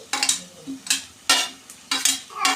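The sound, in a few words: frying and stirring in a pan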